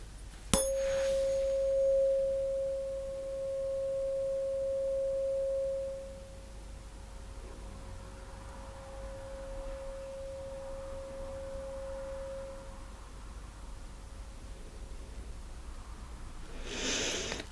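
A single steady pure tone from a hearing test during an ear exam, clear and sustained for several seconds then fading out, with a soft tap at the start and faint rustling later.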